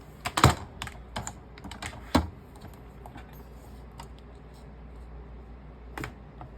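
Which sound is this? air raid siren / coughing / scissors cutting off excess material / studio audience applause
scissors cutting off excess material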